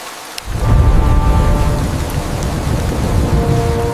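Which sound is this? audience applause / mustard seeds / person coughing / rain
rain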